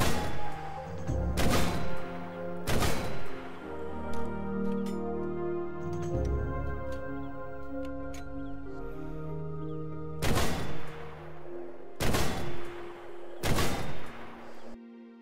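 Gunfire aimed at a light tank, a Panzer III, in Red Orchestra 2: loud, isolated sharp shots in small clusters with quieter mechanical and ambient sounds between them.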